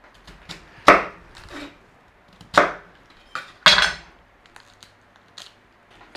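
A knife cuts the stalk out of a red cabbage, landing as three or four sharp, separate chopping strokes against a board with quiet pauses between them, close and fairly loud, with no talking.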